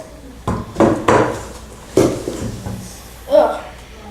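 Clear slime being mixed with contact solution in a container, heard as a few scattered knocks and clatters of a utensil against the container, with sticky squelching between them.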